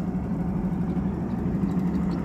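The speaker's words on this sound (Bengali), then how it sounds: "সবগুলি মাছ ধরার নৌকা" A fishing boat engine runs steadily on a river in the morning, a continuous low droning hum at moderate distance with no break or change in pitch.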